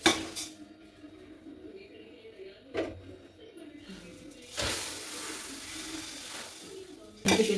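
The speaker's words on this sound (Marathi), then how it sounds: "आणि इथे मी शेंगदाणे वगैरे जरा तळून घेत आहे चिवड्यासाठी" Peanuts, coconut, curry leaves and chillies fry in a pan for chivda, with metal utensil clinks and scrapes and a soft sizzle building in the second half; no clear talking.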